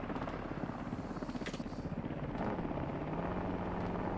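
Video game helicopter flying nearby, a continuous rapid rotor chop with engine drone, steady and loud with a brief whoosh partway through, no talking.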